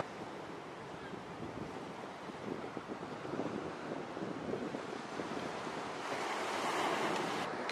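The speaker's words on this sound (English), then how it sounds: "I'm just waiting now for the waves to come in over these rocks at the foreground here" Ocean waves wash in over foreground rocks at Blackchurch Rock, a steady roar of surf with wind noise, swelling louder toward the end as a larger wave arrives.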